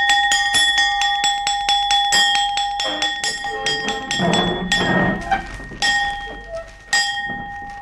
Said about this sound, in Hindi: आधी छुट्टी की घंटी बजा दी